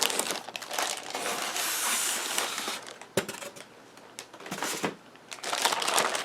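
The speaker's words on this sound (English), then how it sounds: "Get it out of the styrofoam." Nintendo 64 console being worked free of its styrofoam packaging, close-up squeaky scraping and crunching rubs in irregular bursts, with a sharp knock midway and no talk.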